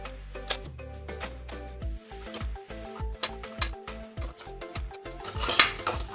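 Metal spoon scraping and clinking against a pan while spices are stirred into a Maharashtrian eggplant curry (ghotleli vangi), a steady run of close, sharp taps and scrapes with no talking.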